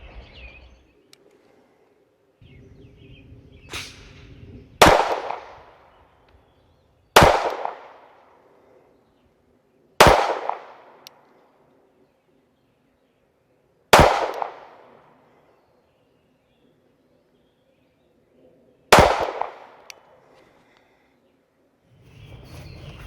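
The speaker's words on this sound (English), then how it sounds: "I'll try 5 shots to the body from back there," Five sharp gunshots from a .45 Tank Commander 1911 pistol fired at a shooting range from 15 yards, each loud close crack spaced a few seconds apart with a short ringing decay, preceded by faint handling noise.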